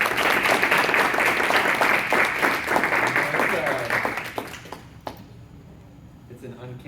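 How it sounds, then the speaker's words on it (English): Conference audience at a session on hip-hop education and restorative justice breaks into loud, dense applause with some cheering, fading out after about four seconds into quieter room noise. "Can we give her another round of Oh, applause?"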